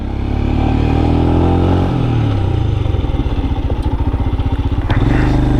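A Royal Enfield Scram 411 motorcycle engine roars loudly up close while riding, holding a steady drone before the revs drop into a rapid, pulsing thump as it slows, with no talking.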